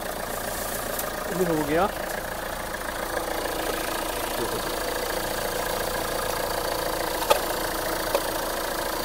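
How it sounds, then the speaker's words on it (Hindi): A 2017 Renault Duster's engine runs at a steady, rumbling idle throughout, close by, while someone talks over it. "करते हैं अपने इंजन स्टार्ट"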